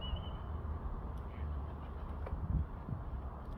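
Wild ducks quacking outdoors in an old town area, faint scattered calls over a steady background rumble, with a few brief sharper calls near the middle.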